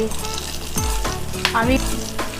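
Spices, coriander seeds, tomato and onion frying in a hot pan for a homemade chicken and liver curry, a loud close sizzle broken by several scraping stirs and clanks of a spoon against the pan.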